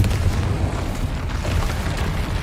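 Confringo fire spell detonating in the video game Hogwarts Legacy, a loud, dense rumbling boom that fills the whole moment, heavy in the low end and with no voices over it.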